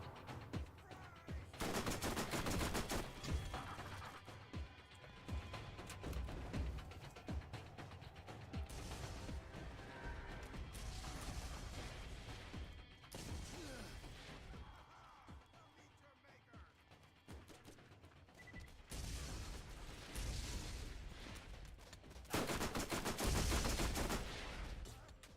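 Gunfire in the Borderlands video game crackles in several loud bursts of rapid shots, separated by stretches of mechanical clanking and creaking. Heard from mid-distance, with a voice talking in between.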